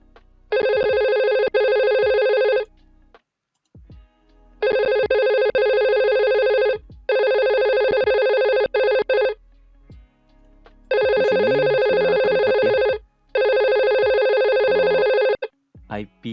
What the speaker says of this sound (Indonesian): Saya akan menelpon si IP phone ini yang nomornya 333